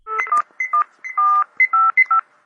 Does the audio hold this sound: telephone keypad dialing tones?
yes